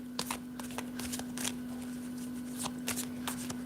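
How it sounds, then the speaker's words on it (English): A deck of cards is shuffled for a card reading, giving a run of quick, close riffling snaps and flicks over a faint steady hum. "No, I'm just shuffling"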